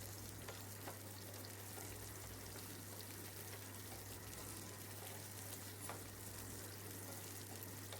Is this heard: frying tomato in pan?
yes